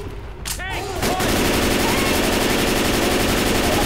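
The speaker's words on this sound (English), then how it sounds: "Coach just walked in front of my line of fire there" Rapid automatic gunfire rattles in the video game Left 4 Dead 2 during a fight with a Tank, a dense continuous burst after a short opening of game sounds and a brief voice.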